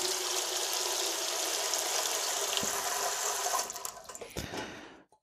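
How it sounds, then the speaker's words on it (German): Water is poured into a pressure cooker fitted with a steamer insert, making a steady, close rush that runs for several seconds and then tapers off in a few drips at the end. "Entsprechend gebe ich jetzt etwas Wasser da rein."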